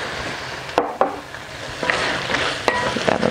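Green pepper, green beans and mixed vegetables stirred in a frying pan for an African vegan cabbage dish, with a steady close sizzle broken by several sharp scraping strokes of the spoon.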